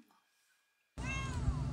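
A cat on Jeju Island gives a single clear meow up close. It breaks in suddenly after a second of near silence and is followed by a steady low background rumble.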